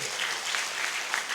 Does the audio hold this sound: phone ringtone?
no